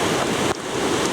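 A mountain torrent rushes beside a rocky trail in a loud, constant roar of churning water, with a brief dip in the middle.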